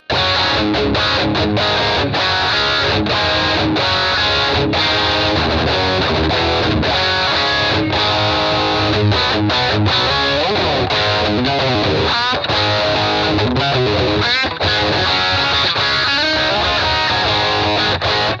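A distorted electric guitar through a Marshall amp with the boost off plays loud, dense riffs with chugging chords and sustained notes, continuous throughout and up close.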